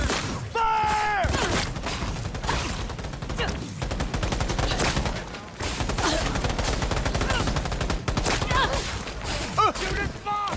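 Sustained automatic gunfire in the futuristic shooter Cyberpunk 2077, dense rapid bursts filling the whole stretch with sharp cracks and mechanical clatter, loud and close, with shouted voices mixed in.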